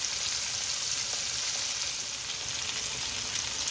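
Steelhead trout fillets sear meat side down in a hot pan, giving a steady loud sizzle and crackle of frying that holds evenly throughout with no talk.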